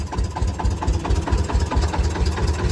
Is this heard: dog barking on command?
no